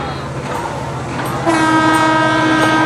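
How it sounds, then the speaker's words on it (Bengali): A train rolls past close by near a river bridge, a loud continuous rumble that swells halfway through as a sustained horn tone sounds over it. "পাশ দিয়ে কিন্তু ট্রেন চলে যাচ্ছে"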